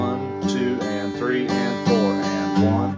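Bluegrass rhythm guitar strummed in a down-up pattern, bright chords with accented strokes every half second or so, steady and close, played alone.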